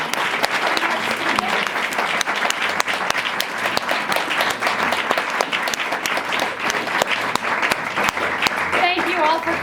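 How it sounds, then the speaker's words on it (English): Loud, dense applause from the audience closing a lecture panel, sharp individual claps standing out within the sustained ovation, with a brief voice or tone near the end. "All right, well, let's give a round of applause to our"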